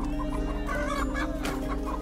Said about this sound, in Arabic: ثم خرجنا أنا وجحا إلى سوق الطيور فباع الدجاج